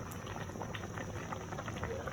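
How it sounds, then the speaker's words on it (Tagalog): A pot of pasta boils steadily, with continuous bubbling and small popping sounds close by. "Kumukulo pa po ang pasta."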